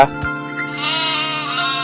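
Sheep bleat in the Mini World video game, a short in-game call followed by a longer, wavering bleat, heard close and clear while someone talks over it.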